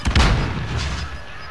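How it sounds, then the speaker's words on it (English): A stun grenade bursts in the Warzone video game, a loud low boom at the start that leaves a long rumbling, ringing wash fading over the next second and a half. "Throwing stun!"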